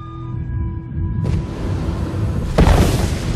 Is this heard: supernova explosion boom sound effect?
yes